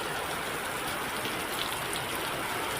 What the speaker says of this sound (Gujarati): મુન્દ્રાના ગ્રામ્ય વિસ્તારોમાં ધોધમાર વરસાદ વરસી રહ્યો છે.